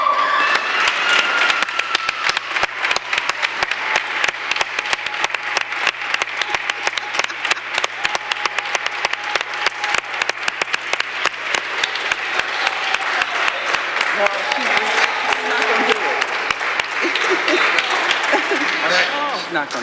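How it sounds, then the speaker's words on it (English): City council members at a Cleveland council meeting give a sustained round of applause, dense steady clapping lasting throughout, with a few voices faintly mixed in. "all council will please rise to give a round of applause"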